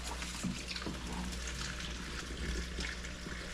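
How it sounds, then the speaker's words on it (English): Water pours steadily while plants are watered, a continuous soft splashing stream at close range that runs without a break for the whole stretch. "Watering the plants"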